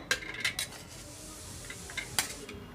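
A metal spoon clinks and scrapes against a plate while mashing boiled tender jackfruit, giving a few sharp clatters spread across a short stretch, close and fairly quiet.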